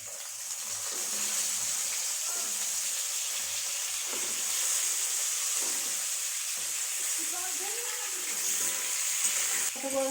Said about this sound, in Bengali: এই পটল লাল লাল করে ভেজে নিতে হবে।